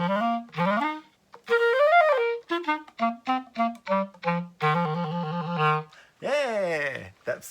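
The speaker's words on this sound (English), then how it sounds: "Yeah, that's the sound of the clarinet." Clarinet played by a children's presenter, a close melody of short bouncing notes with a few sliding pitches, alone with no talk.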